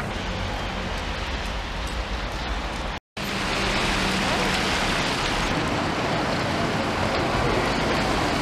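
Steady, heavy rain hisses continuously at a Manchester tram stop, interrupted by a brief dropout near the middle before resuming at the same level.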